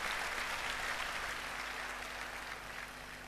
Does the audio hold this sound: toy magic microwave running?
no